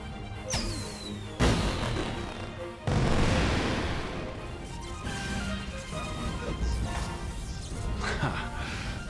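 Fireworks burst during a festival scene in the game Blade and Soul: a whistling launch, then two loud sharp booms followed by lingering crackle and a rumbling wash of noise.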